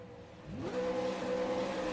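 A V8 Supercars race car revs its engine while waiting in the Bathurst pit lane during a sim racing enduro. The steady engine tone rises sharply and then holds at a high, loud drone, with no talk.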